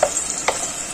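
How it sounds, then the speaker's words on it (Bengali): A spatula stirs ginger and cumin paste in a hot pan, giving a brief scrape and soft sizzle that lasts under a second. "আদা বাটা আর জিরে বাটাটা দিয়ে দিলাম, একটু নাড়াচাড়া করবো।"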